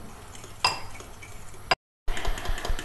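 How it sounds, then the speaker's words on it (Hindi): A utensil clinks and scrapes against a bowl as flour (maida) is mixed into a thin breakfast batter, giving a few sharp taps over soft stirring, with a brief dropout in the middle. "अब हम इसमें ऐड करेंगे मैदा और इसको साथ साथ मिक्स करते जाएंगे"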